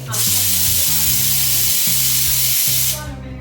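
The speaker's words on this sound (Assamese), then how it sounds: "মই এতিয়া প্ৰেছাৰ উঠাই দিলোঁ মোৰ হালিমটো এইখিনি" A pressure cooker cooking haleem vents steam in a loud, steady hiss that lasts about three seconds and then cuts off. A low rhythmic background noise runs underneath.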